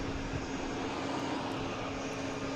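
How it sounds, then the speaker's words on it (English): An Airbus A321 airliner passes overhead, a steady broad engine roar with a low hum that holds at an even, moderate level throughout, distant rather than close, with no voices. "we got 15, Flight 177 heading to Las Vegas, an A321"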